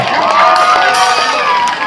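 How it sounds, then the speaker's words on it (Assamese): A large crowd at an outdoor Bihu festival fair (Bohagi mela) in Dakshin Amolapatti, Dibrugarh, cheers and shouts loudly and continuously, with bright high whoops rising over a dense roar of voices. "সকলো ৰাইজৰ কাৰণে এটা হাত চাপৰি বজাব লাগে"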